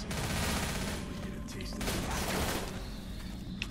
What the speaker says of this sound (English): Auto shotgun.